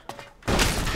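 A gunshot in the video game Elex II: a sudden loud blast halfway through, after a brief quiet lead-in, followed by a sustained dense burst of noise.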